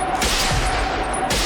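Dense, continuous rifle and machine-gun fire from a World War II battle scene in the TV series Band of Brothers, loud and close, with rapid overlapping shots.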